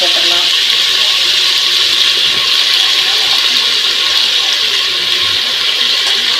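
Tap water gushes steadily and loudly while vegetables and lentils (tomato, eggplant, potato) are rinsed in a kitchen for Chettinad idli sambar, a continuous close hiss with no break.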